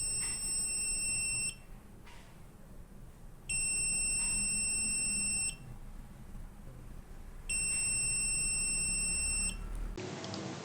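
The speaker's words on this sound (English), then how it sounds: "Now you can hear buzzer is beeping slower as I have increased the delay seconds to 2000 milliseconds." An electronic buzzer in an Arduino-style circuit beeps slowly with a two-second delay, giving three long, steady high-pitched tones separated by equal quiet gaps, close and clear, with no talking.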